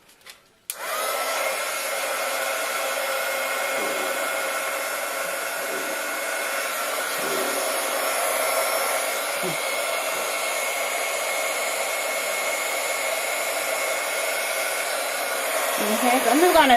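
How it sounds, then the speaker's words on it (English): A heat embossing tool blows hot air onto a card in a loud, continuous whooshing drone that runs steadily for over fifteen seconds after a brief click at the start, with faint shifting as it is moved around. "next you're going to need your heating tool"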